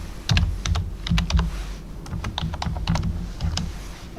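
Close, clear keystrokes on a computer keyboard come in quick irregular bursts as a password is typed into an online form, with short pauses between clusters of taps.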